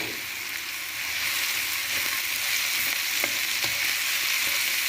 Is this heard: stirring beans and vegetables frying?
yes